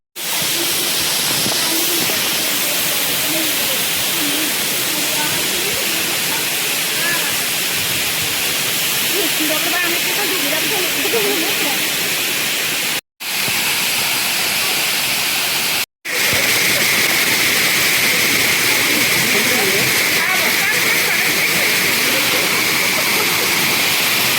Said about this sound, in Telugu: ఇలా వాటర్ ఫాల్స్, జలపాతాలు చూడండి.